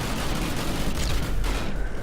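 Turret explosions from the video game Steambirds Alliance, still using the older explosion effects: a dense, continuous barrage of rumbling blasts that overlap with no gaps, loud and heavy throughout.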